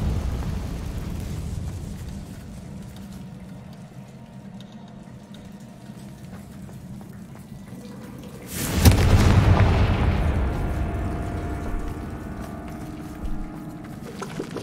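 A Confringo fire-blast spell explodes in Hogwarts Legacy, a sudden heavy boom midway through that rumbles and crackles for several seconds before fading over a quiet, low ambient hum.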